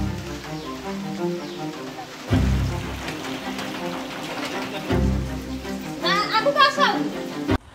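Heavy monsoon-season rain pours down on waterlogged village homes with no drainage, a steady wash of noise beneath voices talking throughout, growing louder in bursts toward the end.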